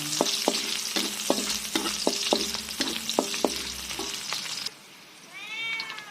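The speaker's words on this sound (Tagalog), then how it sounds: "So now we saute the onion." Onion sautéing in a pan for chicken adobo, a close sizzle with rhythmic clinks under steady background music, which stops near the end as a cat meows.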